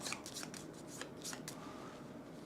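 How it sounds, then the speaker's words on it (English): A quick riffle of playing cards being shuffled in the card video game Eternal Decks, several soft crisp flicks in a short burst, fairly quiet and alone. "So the skeleton will get shuffled."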